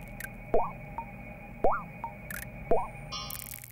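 Synthesized bubble tones from the Frozen Bubble puzzle game sound in three evenly spaced, short rising bloops with a pitch that sweeps upward, plus faint clicks and a brief digital burst at the end.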